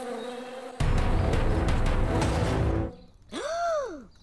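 Bees give a loud, dense buzzing that starts abruptly, holds steady for about two seconds and then cuts off. A rising and falling whooshing tone follows after a short gap.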